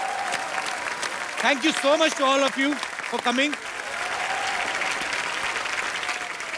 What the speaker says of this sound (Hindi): एक बार डैडी की पूरी कास्ट के लिए जोरदार तालियां।